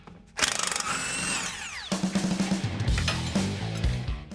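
A ratchet works on the leaf spring bolts of a truck's rear axle: a short whirring spin-up, then a close, rapid run of sharp metallic clicks in quick bursts.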